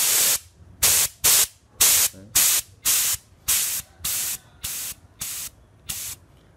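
A paint spray gun, set up for spraying textured paint on an old trolley speaker, releases ten bursts of air. Each loud hiss lasts about half a second, evenly spaced, and the bursts grow gradually weaker.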